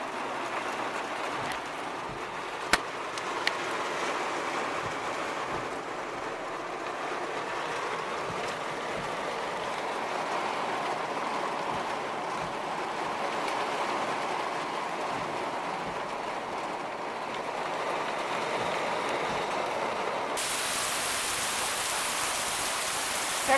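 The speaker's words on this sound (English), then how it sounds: "But yeah, pouring down, raining." Heavy rain pours down during a Texas storm, a dense steady hiss running unbroken for over twenty seconds, with a couple of sharp knocks early on and the downpour swelling brighter near the end; no one speaks.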